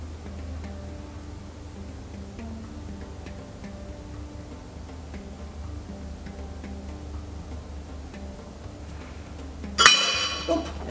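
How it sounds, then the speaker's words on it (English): A glass bottle heated over a candle flame for cutting gives off small tinkling clinks and ticks, faint and scattered over a low hum, ending in a sharper crackle near the end. "You might be able to hear it breaking. It sort of makes a clinking noise."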